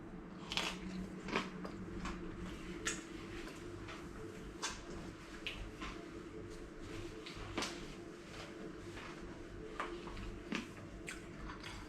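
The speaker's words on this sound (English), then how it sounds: "I don't know if you guys can hear how crunchy that is" Crunchy homemade pizza bitten and chewed close to the mic, a quiet series of sharp crackling crunches at irregular intervals over low background hum, no talking.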